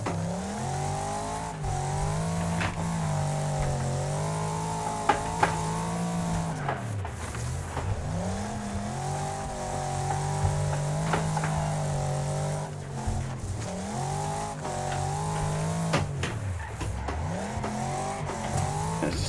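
Race cars in Wreckfest driven on a wheel, engines revving up and down through gear changes with rising and falling drones, brief tire squeals and knocks mixed in, close and continuous, no talking.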